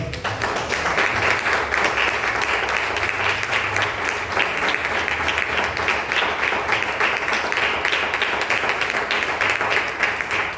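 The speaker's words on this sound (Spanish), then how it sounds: "Den un aplauso al Señor" Steady, prolonged applause from a church congregation, many hands clapping in a full, even roar with some distinct sharper claps, a few voices faintly underneath.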